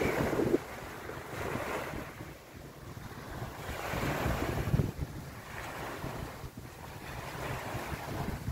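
Wind gusts buffet the microphone over the steady wash of ocean waves breaking on Encenada Beach in Puerto Galera, with no voices.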